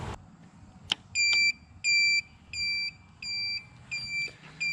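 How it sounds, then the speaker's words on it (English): Piercing electronic beeps from a computer buzzer wired to the indicator light of a 1983 Honda GoldWing 1100 cafe racer, sounding in a steady repeating on-off rhythm, close and loud over a low idle hum. "I've got a very obnoxious beeping noise"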